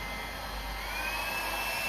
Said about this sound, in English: So I use a travel blow dryer because it's light and because I'm used to it.